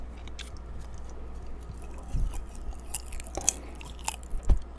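Popcorn is chewed close to a microphone, with moist crunching and biting that start quiet and grow into louder, irregular crunches toward the end.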